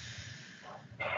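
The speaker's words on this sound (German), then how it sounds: "Einatmen." A patient breathes in deeply during a medical examination with a stethoscope: a single close, airy inhalation with a louder rush of air near the end.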